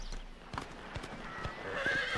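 Horse in the Red Dead Redemption video game, a sequence of clip-clopping hooves with a shrill whinny rising at the end, moderately close.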